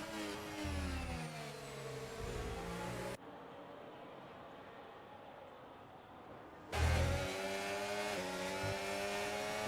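Formula racing cars in a racing video game at the British Grand Prix: loud, close engine whines rising and falling in pitch as the cars brake and accelerate, cut by a few seconds of quieter hollow roar.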